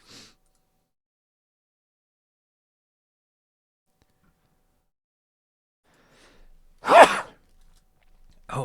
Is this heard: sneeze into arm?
yes